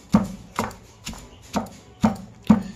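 Roasted curry leaf mixture pounded in a mortar, six evenly spaced heavy thuds about half a second apart, close and loud with no talking.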